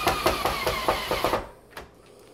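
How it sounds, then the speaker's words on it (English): Screws driven with a power drill into a hands-free faucet push bar under a sink, heard as a fast series of about seven evenly spaced sharp mechanical bursts up close, then stopping with one faint knock. "we just shoot a couple of screws in there"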